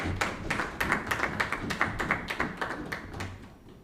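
Parliamentary applause, a steady run of distinct hand claps and desk taps at a moderate pace, fairly quiet and without talk.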